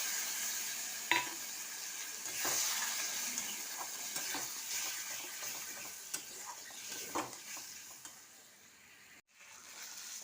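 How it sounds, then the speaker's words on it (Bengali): A utensil stirs and sautés a coconut, coriander and ginger paste masala in a pan, giving a soft, steady sizzle with scattered scraping clicks close by. "খুব ভালো করে কষা হয়ে গেছে।"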